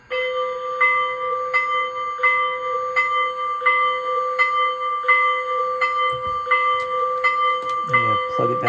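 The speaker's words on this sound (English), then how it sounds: "So F1 is my bell." A ringing locomotive bell on an LGB model mogul locomotive with a Zimo sound decoder strikes in a steady rhythm about every three quarters of a second, bright and clear, with a brief handling clatter near the end.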